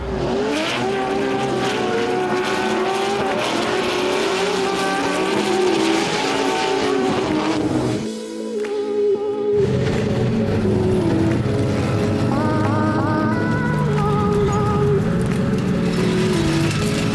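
Drift cars racing around a cold, slick track at a Formula Drift round in Salt Lake City, with engines roaring and tires squealing loudly and continuously, dipping only briefly before the next car screams through.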